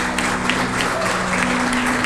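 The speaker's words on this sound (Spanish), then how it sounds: "Dale una ofrenda de palmas al Señor Jesucristo." Church congregation clapping together in steady, dense applause, a full room of hands sounding close and even for about two seconds, with a faint sustained tone underneath.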